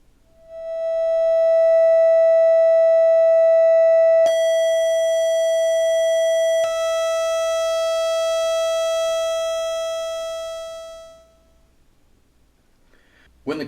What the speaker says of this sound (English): When the rotary control is fully clockwise, the oscillator produces these waveforms.